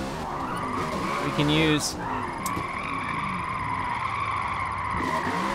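Tires skidding and squealing in a handbrake drift in the Forza Motorsport racing game, a sustained screech under engine drone with someone talking over it.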